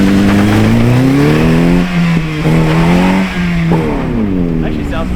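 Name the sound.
beater car engine revving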